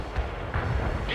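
Incoming artillery fire in the strategy game World in Conflict, Soviet assault campaign, as a dense, loud rumbling barrage of booms that swells and stays heavy throughout the short burst.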